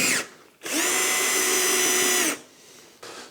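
A Festool cordless drill driver whirs at high speed for a couple of seconds while driving a screw in a confined space, then stops, then starts briefly again, loud and close.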